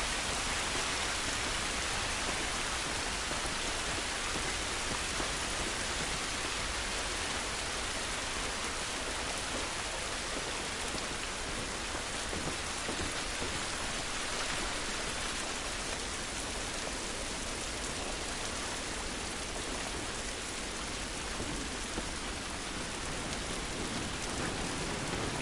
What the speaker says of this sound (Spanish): Esta lluvia no nos va a ayudar.